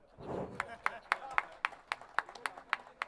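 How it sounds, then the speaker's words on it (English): Audience at a business summit clapping in scattered, sharp claps at a fairly even pace, moderately near, after a voice briefly speaks. "At least give some little bit claps."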